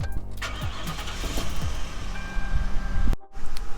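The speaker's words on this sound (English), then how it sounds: "Let's start her up." A 2003 police car with 93,000 miles cranking and starting: a loud, close churning engine turnover for about three seconds, a brief cut, then the engine catching and running.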